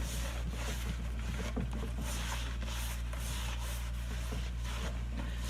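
The cylinder bore of a Perkins 152 engine is scrubbed clean by hand, giving rhythmic rubbing and scraping strokes over a constant low hum, close and fairly quiet, with no talking.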